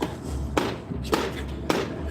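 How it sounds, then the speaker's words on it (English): Stage knocking on a door during an outdoor Macbeth performance in a parking lot: three sharp, evenly spaced knocks ring out over a low steady hum, with no voices. "Whence is a knocking?"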